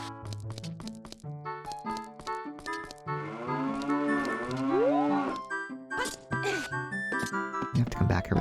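In-game cows in Zelda: Ocarina of Time let out a long, drawn-out synthesized moo in the middle, between stretches of game music, while a player talks.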